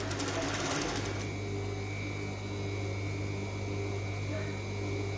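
A sewing machine stitching a child's swimsuit runs close and steady, with a brief burst of fast needle clatter at the start, then a continuous motor hum; no one speaks.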